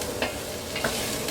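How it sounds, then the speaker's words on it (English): Onions sauteing in a pan for a West African chicken stew, a steady soft sizzle with two brief scrapes of stirring, close and fairly quiet, no voices. "We're gonna saute these until they're soft."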